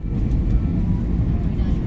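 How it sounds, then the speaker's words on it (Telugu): Inside an airliner cabin as it lands in Barcelona, a loud, steady low engine roar fills the short stretch without a break. "ఫ్లైట్ ఇప్పుడు బార్సిలోనాలో ల్యాండ్ అవుతుంది"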